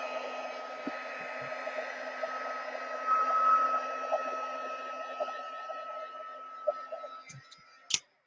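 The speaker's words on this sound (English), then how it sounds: "I'm just going to dry it a minute." A heat tool blows steadily for several seconds while drying distress ink on a handmade card, a constant whirring hiss with a few small clicks, ending in a sharp click as it switches off.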